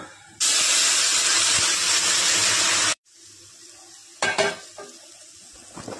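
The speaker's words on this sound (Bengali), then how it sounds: "জলটা ঢেলে দিলাম, সিদ্ধ হতে দেব" Boiling water is poured into a pan of frying golden moong dal, setting off a loud, sustained hiss and sizzle that cuts off suddenly, then a quieter simmer with a few clanks of stirring.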